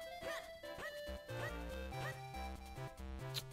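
A dog barks and yips in The Legend of Zelda: The Minish Cap, a few short game barks over steady, bright in-game music that continues throughout.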